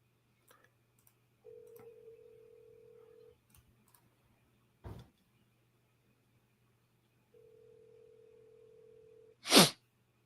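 Telephone ringback tone on an outgoing call: two steady ring bursts of about two seconds each, separated by a pause, with a few brief clicks and knocks nearby and a low constant hum beneath.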